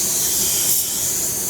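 Compressed-air paint spray gun spraying a coat at normal settings in a spray booth, heard as a steady, loud, continuous hiss with no pauses and no talking.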